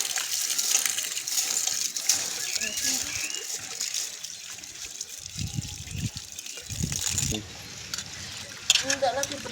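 Navadhanya grains are washed by hand in water, with swishing, gushing and trickling sounds close by, rising and falling in bursts while a person talks over parts of it.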